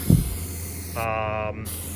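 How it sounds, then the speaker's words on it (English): A can of cheap flat black spray paint hissing in a short, steady burst of about half a second, close by, after a brief thump. "flat black spray paint I got from Home Depot."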